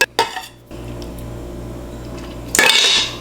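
Homemade sriracha is stirred with MSG in a dish, with a few clinks of a utensil at first, a quieter stretch, then a louder scraping, stirring swirl near the end, with no one talking.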